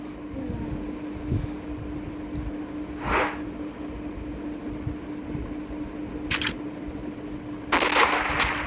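Sniper rifle shots from the hunting video game Hunting Sniper, short sharp bursts over a steady low droning hum, with a softer crack midway and louder blasts near the end.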